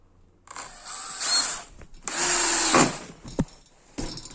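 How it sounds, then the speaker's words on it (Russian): A power drill drives self-tapping screws into a wooden board, whirring in two sustained close bursts with a ratcheting edge, followed by a sharp click and a short final spin. "ну еще сейчас два саморезика еще прикручу"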